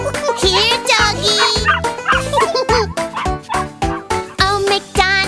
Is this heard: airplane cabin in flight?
no